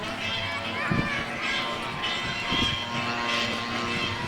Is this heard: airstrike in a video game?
no